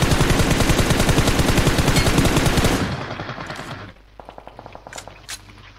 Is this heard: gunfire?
yes